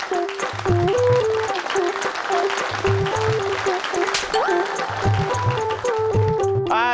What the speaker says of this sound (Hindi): मानव, मेहर और बल्लू के लिए एक बार फिर से जोरदार तालियां।